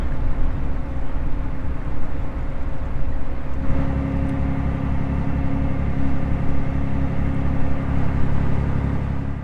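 A small ferry crossing the Rhine: a steady low engine drone and rumble that holds throughout at close range, shifting slightly in tone partway.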